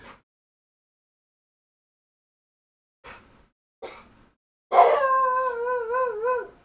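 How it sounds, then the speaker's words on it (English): A dog howls in the background of a quiet room, giving a couple of short soft sounds before one sustained wavering howl that rises and trails off. "You can hear my dog in the background."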